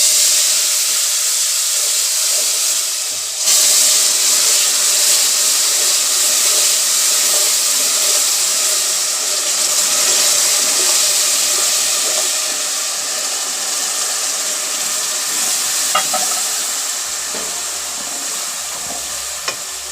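Sugar syrup hits roasted light-brown semolina for fig halwa, letting out a loud, steady sizzle and hiss that starts abruptly and continues while being stirred, with faint scraping clicks near the end.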